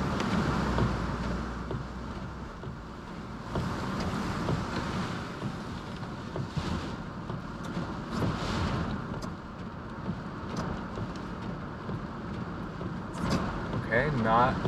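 A driverless Cruise robotaxi rolling through heavy rain and deep puddles, with a steady rumble of tires on wet road and water hiss under a continuous drone, and a person talking over it inside the cabin.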